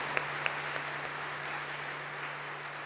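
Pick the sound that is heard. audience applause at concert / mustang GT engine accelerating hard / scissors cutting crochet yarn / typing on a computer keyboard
audience applause at concert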